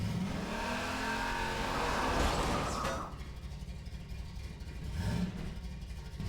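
A car in Half-Life 2 VR revs loudly with a rising engine roar and rumble, drops off abruptly, then surges again briefly before settling into a lower idle, with no voices.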